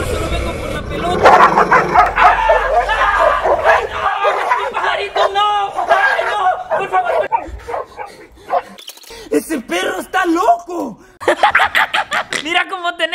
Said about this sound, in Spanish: ¡Ay, qué bonito el perrito!